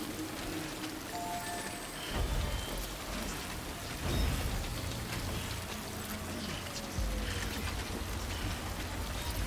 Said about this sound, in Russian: Я не буду скипать дождик.